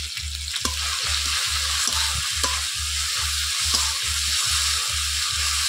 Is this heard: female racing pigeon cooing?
no